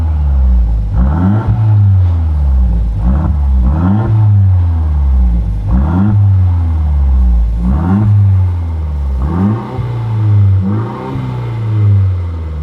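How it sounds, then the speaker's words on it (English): Repeated rev blips from a Mercedes C300 four-cylinder turbo with muffler and resonator deleted, about seven sharp bursts over a deep idle rumble, loud and close, with no talk. "the exhaust does sound great. So I'm gonna crank it, let you guys hear it"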